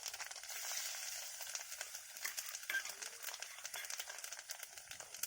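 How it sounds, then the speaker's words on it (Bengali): Bay leaf, panch phoron and nigella seeds tempering in hot oil, giving a fairly quiet, bright crackling sizzle with small irregular pops that runs steadily throughout. "ওই তেলে এবার আমি ফোড়নগুলো দেব।"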